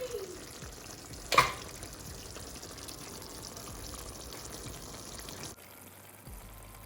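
Soft, continuous bubbling and sizzling of spicy potato curry in a pan on the stove, with a brief clatter early on and no talking.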